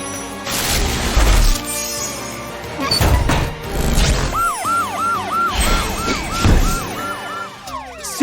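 A LEGO Super Ambulance siren in a toy animation, a repeating wailing yelp cycling about eight times, loud and near, mixed with crashes, thuds and background music.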